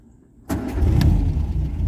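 An MGA classic car's engine cold starts after a moment of quiet, catching abruptly and settling into a loud, close, rumbling idle with a few sharp ticks early on.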